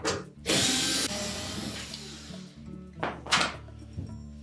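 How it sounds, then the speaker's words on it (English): A power screwdriver backs out retaining screws from the lower access panel of a Whirlpool washer, a loud close whirring burst followed by clunks and a second short run of the tool. "next we'll remove 3 retaining screws under the bottom of that access panel"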